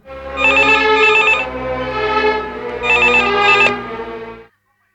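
A telephone rings in two loud, close bursts of a bright electronic warbling ring with a short pause between, then cuts off into silence.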